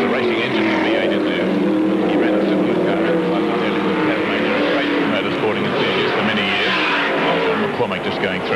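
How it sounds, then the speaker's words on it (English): A Repco V8-powered Alfa Romeo sports sedan's racing engine roars loudly and continuously during a 1980 Australian championship race, a dense, rumbling snarl that swells and holds without pause. "the racing engine V8 is there"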